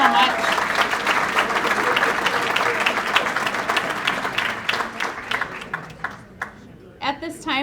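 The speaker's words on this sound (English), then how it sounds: "Our brass quintet one more round of applause," Sustained applause from a luncheon audience at a Rotary Veterans Day event, honoring a brass quintet; dense clapping fills the room, thinning and breaking into scattered claps toward the end.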